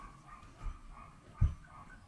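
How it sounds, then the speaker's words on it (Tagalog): A dog barks a couple of times in the distance, a soft low woof followed by a louder one, over quiet room tone. "Ang ingay ng aso."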